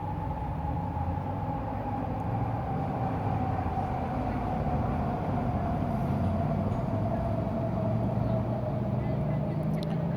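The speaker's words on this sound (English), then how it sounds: "God damn trains, Grace." A train passing by, a heavy continuous low rumble with a faint steady tone that slowly falls in pitch, holding throughout at a constant loudness.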